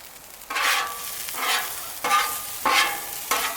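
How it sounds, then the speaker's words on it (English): Onions being stirred around on a hot Blackstone griddle beside a toasting bun, with a steady close sizzle broken by four or five scraping stirs of a spatula. "Stir them onions around a little bit"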